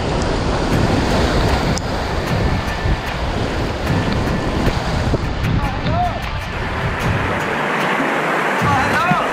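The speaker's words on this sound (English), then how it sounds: "right now we got like three more rapids" Whitewater rapids on the upper Magnetawan River during a canoe trip roar in a loud, continuous rush of churning water, heavily buffeted by wind noise on the microphone.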